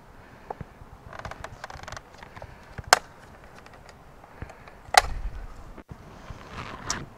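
Plastic mirror cover on a 2020 Subaru STi pried off by hand, with soft creaks and rubbing, two sharp clicks as the clips let go, and light handling noise between them.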